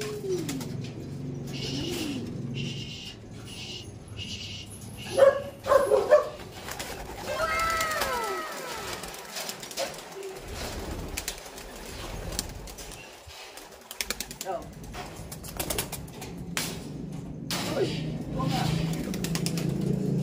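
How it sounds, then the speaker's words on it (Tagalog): Pet pigeons released outdoors before feeding coo softly and flap their wings, with bursts of wingbeats and scattered calls over a steady outdoor background, while someone talks at intervals. "So magpapawala muna tayo ng mga ibon natin bago natin pakainin."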